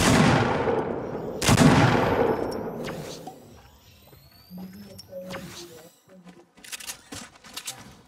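Fortnite gunfire, including shotgun blasts, in a battle royale match: a loud sharp shot opens, then a second heavy blast, followed by fainter scattered shots, metallic clinks and game sounds while a voice speaks over them.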